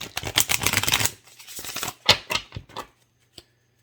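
A deck of tarot cards is shuffled by hand in close, crisp riffling bursts. A dense flurry comes first, then a few shorter shuffles, and a single faint tap follows after a pause.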